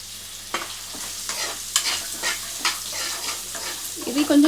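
Chopped carrots fry in a pan with a steady soft sizzle and a few stirring scrapes, close by, ending in a louder clatter.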